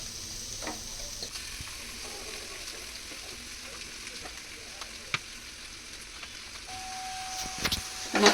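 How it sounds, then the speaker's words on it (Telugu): Boiled rice tumbles into a hot pan of sizzling chicken keema fried rice, a steady frying hiss with scattered stirring clinks and a few sharper knocks toward the end, close and continuous. "ఇప్పుడు చక్కగా మనం ఉడకబెట్టుకున్న రైస్ కూడా వేసేసుకుందాం"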